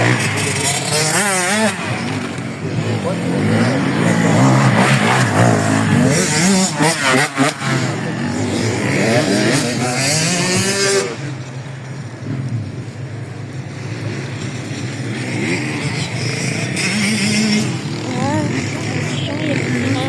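Endurance race cars roaring past, engines revving and fading in and out, loud and fairly near, with a voice talking over the noise.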